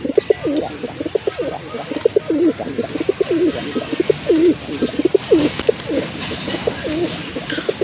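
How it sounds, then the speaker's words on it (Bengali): Pigeons offered for sale at a Bangladeshi pigeon market coo close by, with repeated throaty, rolling calls that overlap almost continuously and stand out loud and clear. "মাশাল্লাহ আরেক জোড়া করা কবুতর,"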